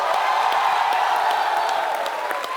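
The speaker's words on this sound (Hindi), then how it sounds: "तो आप सबकी जोरदार तालियों के बीच स्वागत करना चाहूंगा फिल्म बेगम जान की टीम।" Studio audience on a Kapil Sharma comedy show applauding and cheering to welcome the Begum Jaan film team, a dense, steady wash of clapping with scattered whoops that holds at full loudness throughout.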